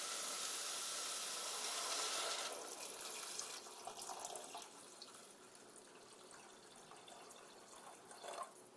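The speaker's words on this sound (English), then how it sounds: "I have this big thing of water. I'm just going to put in like" A stream of water pours into a pot for Thai curry veggie soup, a bright splashing hiss for a couple of seconds that settles into quieter trickling and dripping.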